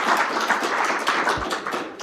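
A conference audience at eazyBI Community Days gives guests from Brazil a close, steady round of applause, with dense overlapping claps throughout.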